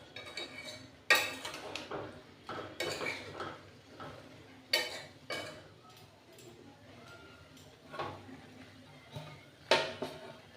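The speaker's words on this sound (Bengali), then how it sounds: "এবারে এই অবস্থায় আমি আবার গ্যাসটা লো করে ঢাকা দিয়ে দিচ্ছি" A lid goes onto a cooking pot on a gas stove while raw mango pickle cooks, making a few sharp metallic clanks and clinks spaced irregularly, fairly quiet, with softer rattles between them.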